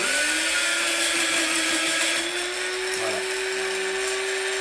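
An electric spice grinder mixing barbecue spice powders runs loud and close with a strained high whine whose pitch creeps upward, and the motor bogs briefly near the end.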